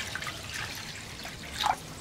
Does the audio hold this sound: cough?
no